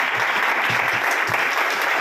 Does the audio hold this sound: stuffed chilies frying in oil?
no